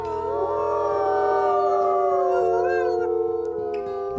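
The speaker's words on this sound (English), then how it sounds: "let's go ahead and do a howl real quick" A wolf howl in the video game WolfQuest, several long, sustained, wavering tones layered together in a loud chorus that rises and falls steadily with no talking.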